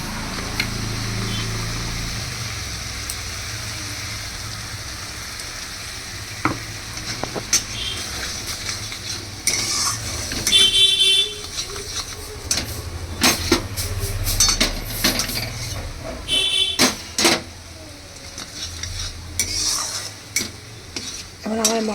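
Spices with yogurt and a mustard-poppy paste are stirred in a pan for a vegetarian pointed-gourd curry: soft sizzling under repeated scraping and clinking of a spoon against the pan, intermittent and close, no talking.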